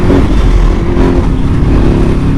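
A 1190 sport motorcycle engine runs loud and close while riding, a continuous throaty drone with a steady rev and no pauses.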